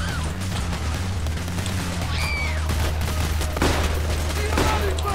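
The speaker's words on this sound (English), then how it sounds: "Oh, he took me down with a shotgun." Shotgun blasts and scattered gunfire in the heist shooter Payday: The Heist crack through a busy firefight, with sharp bangs over a steady low rumble of game noise and effects.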